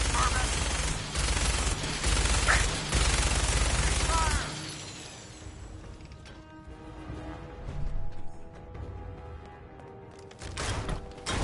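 Gunfire from the video game Fallout 4 erupts in loud rapid bursts for several seconds, then fades to quieter scattered shots and echoing clatter before a final flurry near the end.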